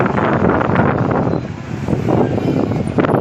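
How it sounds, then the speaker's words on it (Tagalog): Strong wind buffets the microphone in a loud, continuous roar with gusty rumble, no voices heard. "tantang kusog sa ang hangin"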